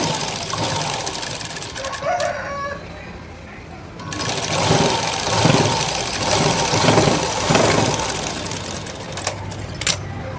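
A sewing machine stitches buttonholes on a blouse, running in a steady mechanical whir with short pauses and restarts while someone talks over it.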